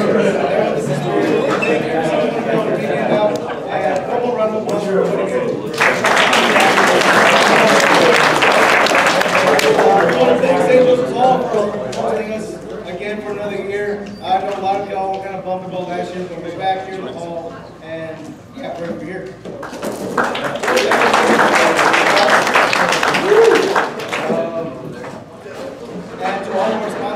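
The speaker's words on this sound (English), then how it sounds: "I had a couple round of applause for everybody here." Audience applause at a wargame tournament: two loud bursts of clapping from a crowd, with chatter and a speaking voice between and beneath them.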